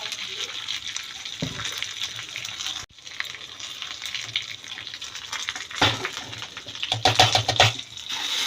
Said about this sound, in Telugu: ఇప్పుడు కచ్చాబిచ్చుగా దంచుకున్న చిన్నుల్లిపాయలు, కరివేపాకు వేసుకోవాలి